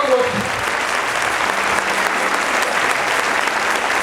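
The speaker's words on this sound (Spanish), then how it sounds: "Fuerte ese aplauso." A church retreat congregation gives loud, sustained applause, a dense even roar of many clapping hands filling the whole stretch, with voices faintly under it.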